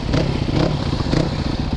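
Christini AWD 250cc big-wheel motorcycle engine revs steadily and loudly up close as the wheels spin in mud, a continuous throaty drone with no pauses.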